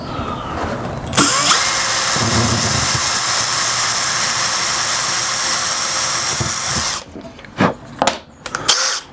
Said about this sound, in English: I'm going to drill into my bench